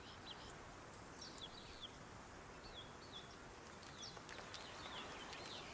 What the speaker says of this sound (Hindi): परिंदों की चहचहाहट